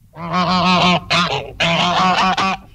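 A white goose honks repeatedly up close, loud nasal calls in two quick bursts separated by a short pause.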